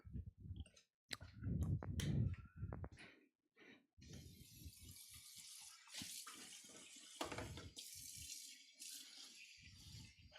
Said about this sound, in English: I fill it with water and I come back later.